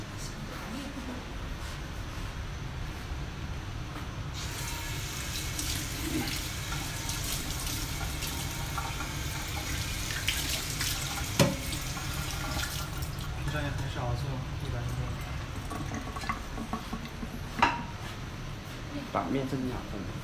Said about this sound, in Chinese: 就把这个盘子洗，咱们洗一下呗